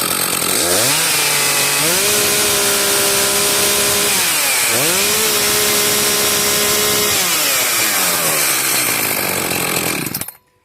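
An Echo CS-590 chainsaw running during carburetor adjustment, its engine screaming loud and close, twice dipping and climbing back up to a high steady whine before the engine shuts off abruptly at the end.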